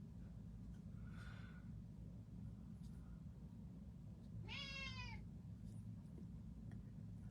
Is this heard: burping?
no